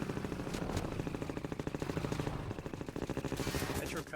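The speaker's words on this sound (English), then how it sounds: "The Metrocop strafing fire pattern was meant to make players slalom around the shots as they sped through" Metrocop strafing gunfire in the video game Half-Life 2, rapid, evenly pulsed automatic shots that rattle on for several seconds at moderate volume before easing near the end.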